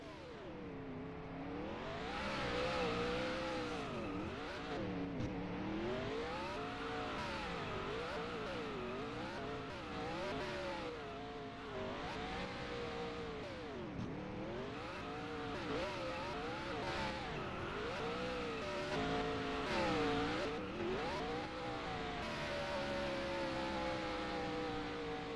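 A race car does burnouts at Loudon, New Hampshire: the engine revs up and down repeatedly in wavering, siren-like sweeps, heard from a distance and fairly faint, continuing without pause.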